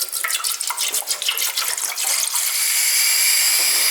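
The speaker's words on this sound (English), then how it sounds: "Let's pour some water." Water pours steadily into a container, a splashy stream that smooths into a fuller, constant rush as it fills, close by with no talking.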